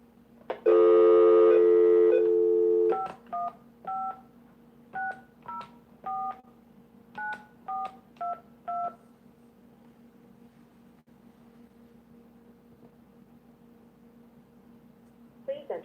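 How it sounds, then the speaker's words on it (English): On a telephone, a steady dial tone lasts about two seconds, followed by roughly a dozen short keypad tones, close and clear, punched in at an uneven pace before the line falls quiet. "So let me dial in the number and we'll get started."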